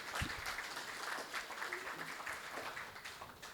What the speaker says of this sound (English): I think this one deserves a round of applause.